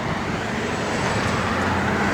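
A 1968 Chevrolet Camaro RS engine running at a steady idle, a close, constant broadband rumble and hiss with no pauses and no voices.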